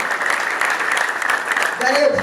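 Dense crowd applause at a church gospel song launch, a steady wash of many hands clapping together, with a voice speaking briefly near the end.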